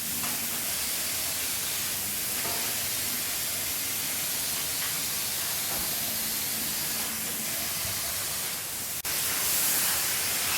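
Steady spray of GM satin black paint laid down as a guide coat during a 1969 Ford XW Falcon restoration, a continuous close hiss lasting several seconds with a brief break near the end.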